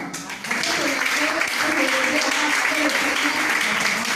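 A church congregation at an evening intercession seminar gives sustained applause and cheering, a steady dense wash of clapping and voices that swells after a brief quieter start and holds loud throughout.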